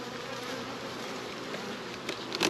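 Dense, steady buzzing of many honey bees around hives in a French bee farm, a continuous close swarm drone with a few louder passes of individual bees near the end.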